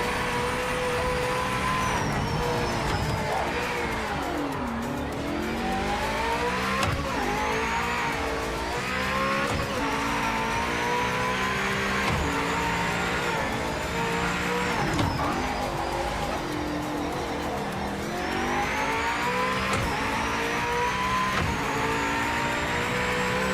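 Race car engine in the video game Project Motor Racing roars steadily throughout, with repeated rising and falling revs as it shifts through gears, loud and close with no talk.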